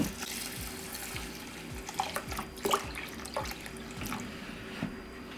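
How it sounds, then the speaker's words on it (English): Tap water runs and splashes into a bowl of basmati rice being rinsed, a steady close trickle with scattered drips and small knocks, no voices. "I'm going to add water into the bowl with the rice."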